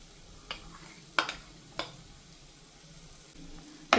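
Capsicum, yellow capsicum, carrot and sweet corn toast in a pan, a soft steady sizzle broken by a few sharp clicks and scrapes from stirring.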